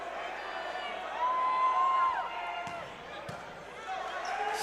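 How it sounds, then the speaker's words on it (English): A lively crowd in Alumni Gym during a 2011 NCAA men's volleyball match between Loyola and BYU cheers and shouts under a commentator's voice, with a whistle tone and sharp ball strikes echoing through the gym. "Very vocal crowd."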